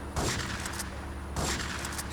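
Two loud pump shotgun blasts ring out in GTA 3, about a second apart, each a sharp burst followed by a short decaying tail.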